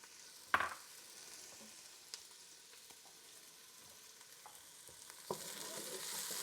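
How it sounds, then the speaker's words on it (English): Unsalted butter melts in a pan with a faint, steady sizzle and crackle, marked by a few sharp clicks and knocks, with no one talking. "Butter is melting."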